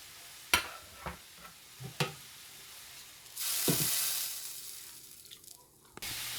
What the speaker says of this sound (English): They frying now.